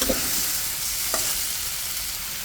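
Sponge gourd and stinging catfish sautéing together in a pan for a Bengali curry, giving a continuous close sizzle with two brief knocks of the spoon near the start and just after one second.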